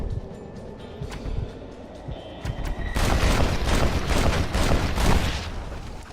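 Gunshots ring out during a duel in Red Dead Redemption, with a few sharp cracks over ambient western background, then a louder, denser burst of gunfire and crashing noise.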